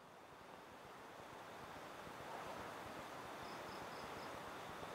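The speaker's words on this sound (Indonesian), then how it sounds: "Anginnya besar sekali, pemirsa. Ini enggak sewajarnya angin." Strong, unusually forceful wind blows in a steady, broadband roar that swells slightly midway, sounding like rushing air or surf against the microphone, with a faint high insect-like tone near the end.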